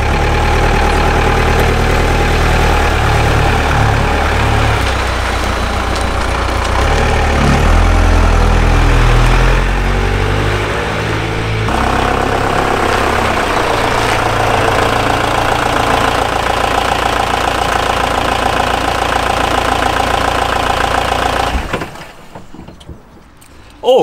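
A VW Caddy van engine runs steadily at a low, throbbing idle, loud and close, continuing for most of the time before cutting off abruptly near the end.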